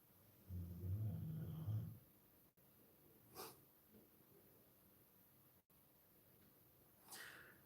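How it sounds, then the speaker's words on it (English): Quiet dog snoring indoors: one long, low, rumbling snore, then faint snuffling breaths and a soft snort at wide intervals. "It is one of the dogs snoring"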